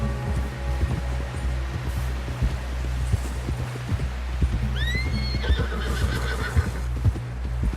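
A horse in the Red Dead Redemption 2 video game: steady clip-clop of hooves on a low rumbling bed, then a clear rising-and-falling whinny near the middle, more hoof beats continuing after.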